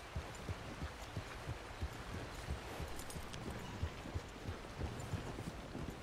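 A horse's hooves clip-clop steadily at a walking pace in the video game Red Dead Redemption 2, with even, moderately loud beats over a continuous ambient background.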